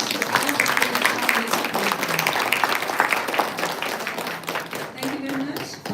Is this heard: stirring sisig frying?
no